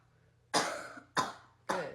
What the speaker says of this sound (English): you can have your kid cough, which can be helpful